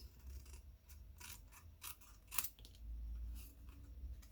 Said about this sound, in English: take my scissors and trim around the outside of my